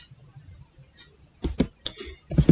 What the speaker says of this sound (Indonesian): Untuk mengecek apakah SSH-nya sudah aktif, kita ketik systemctl